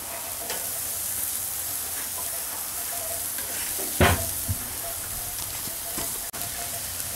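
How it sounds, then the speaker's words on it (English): Chicken wings in root beer barbecue sauce sear in a hot pan with a steady, loud broadband sizzle and hiss, broken by a few sharp pops and clatters. "Oh, listen to that sizzle."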